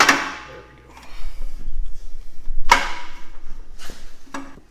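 Rear axle shafts slide into a Jeep JK axle housing with several sharp metallic clanks and knocks spaced a second or so apart, separated by low scraping rumbles of steel moving inside the tube.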